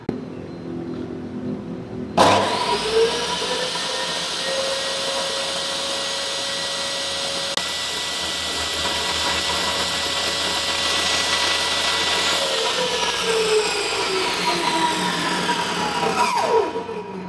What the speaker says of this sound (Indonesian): untuk table saw ini mempunyai fitur brake ya, jadi dia akan berhenti lebih cepat